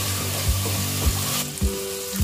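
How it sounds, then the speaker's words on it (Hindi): Ground red chilli, coriander and garam masala roasting in oil over a low flame, a steady humming sizzle broken by soft, regular scrapes of a spoon, close and even. "मसाला थोड़ा धीमी आंच पर ही भूनेंगे क्योंकि सब सूखा ही हुआ है"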